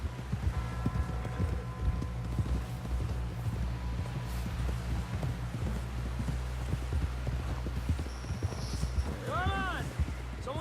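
Horse hooves gallop in the Western video game Red Dead Redemption, with a quick, steady clip-clop rhythm carrying through the clip at moderate loudness beneath a continuous game score and voices.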